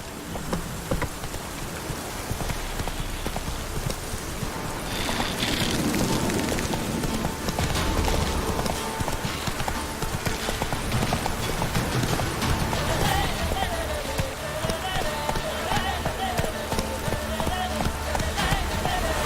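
Horse hooves clip-clop at a steady gallop in The Witcher 3 game, continuous and fairly loud beneath a rain-like hiss and game ambience, with no speech.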